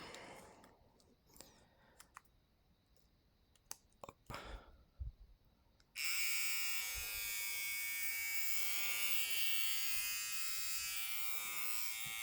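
Xiaomi UniBlade electric trimmer, first a few clicks and plastic handling, then switched on into a loud, steady close-up motor buzz with a high whine that runs unbroken for about six seconds.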